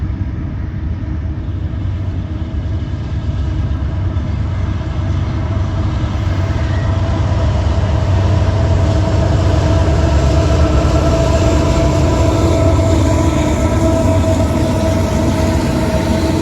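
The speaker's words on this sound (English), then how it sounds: "Like a loaded grain train probably heading to the ports." A heavy, loaded Norfolk Southern grain freight train rumbles steadily past in Kenova, West Virginia, a continuous loud roar of wheels and cars with faint metallic tones, no voices.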